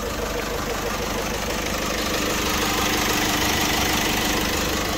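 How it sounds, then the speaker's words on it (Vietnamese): A 2012 Nissan Navara pickup's 2.5 diesel engine idles with a loud, constant rumble and clatter that stays steady for the whole stretch. "Máy rất là êm ái luôn. Máy rất là khỏe"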